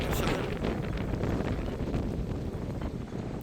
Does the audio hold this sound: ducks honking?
no